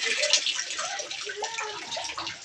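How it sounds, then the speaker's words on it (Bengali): A household tap gushes water steadily, a broad close splashing rush that continues throughout with slight fluctuations and no clear shut-off. "কলে যে জল পড়ছে, কলে জলটা বন্ধ করে দিচ্ছে।"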